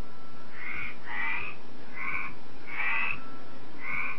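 A tree frog inflates its vocal sac and croaks in five loud, close, raspy bursts spaced about half a second apart, with short pauses between calls and no voices.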